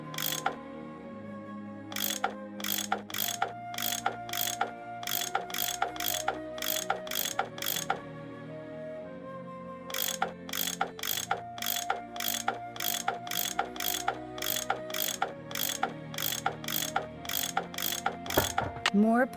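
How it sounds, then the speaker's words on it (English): Ratchet wrench turning bolts in the video game Nancy Drew: Last Train to Blue Moon Canyon, two long runs of loud, evenly spaced metallic clicks over a low steady game hum. "That tool I saw in the caboose. I bet that's what you use to unscrew these bolts."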